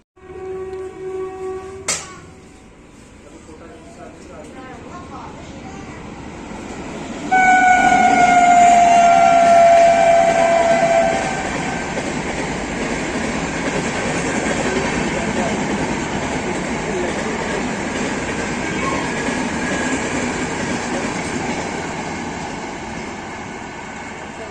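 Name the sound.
fully AC LHB train passing Palwal station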